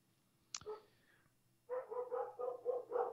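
Dogs barking indoors, one sharp yelp followed after a pause by a rapid run of about six loud barks, close and clear with no talking.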